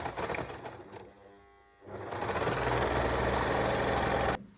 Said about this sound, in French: On coud les côtés à la surjeteuse.